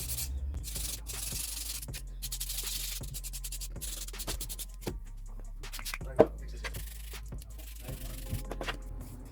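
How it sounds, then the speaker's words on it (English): Nail drill fitted with a buffer bit buffing polygel nails, a constant low motor whine broken by short, repeated rubbing strokes, close up, with a brief sharp knock midway. "So I'm just going to give these a little buff now using the buffer."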